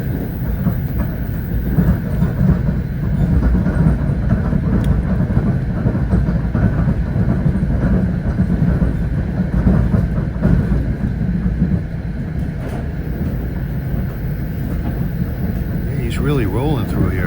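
An NJT train on the Port Jervis to Secaucus run rolling along the tracks, a loud steady rumble and rattle heard from onboard for the whole stretch, with someone talking over it.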